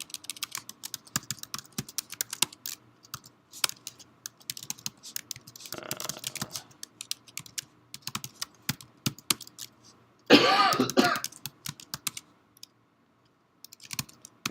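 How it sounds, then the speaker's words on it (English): Rapid computer keyboard typing while entering a crontab on a Linux system, close and crisp, with irregular bursts of clicks, short pauses and a few louder clustered key presses. "we're typing in our cron tab here"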